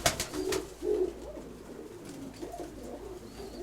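Pigeons from an experimental breeding pair coo softly at close range, with two low throaty coos early on followed by quieter, murmuring calls over faint background noise.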